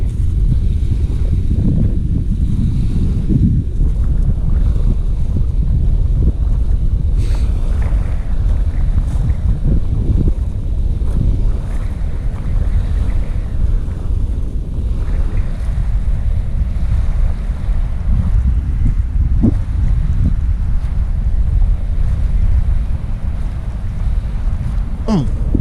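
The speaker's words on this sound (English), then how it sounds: "Well, it's windy, but it's not cold." Strong, steady wind at the seaside in Southend on Sea buffets the microphone with a constant low roar, mixed with the wash of waves, with no break across the whole stretch.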